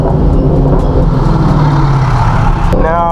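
2014 Mustang engine roars loud and close during a full throttle pull on back roads, a thick rising growl throughout, with a voice cutting in briefly at the end.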